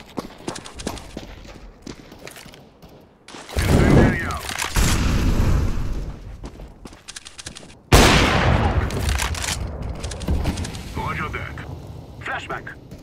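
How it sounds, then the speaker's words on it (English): Flashbang grenades and gunfire in a Counter-Strike: Global Offensive match: two sudden loud bursts ring out and decay over several seconds, with steady combat noise and game voice callouts around them. "Throwing flashbang."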